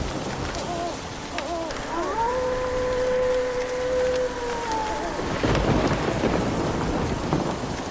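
Heavy rain hisses loudly and steadily throughout, with a sustained tonal hoot or whistle sliding over it in the middle and a burst of louder downpour near the end.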